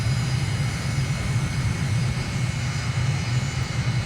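A simulated airliner engine roars during a takeoff roll in Microsoft Flight Simulator, a steady loud jet drone with a low rumble that holds constant throughout, with no talk.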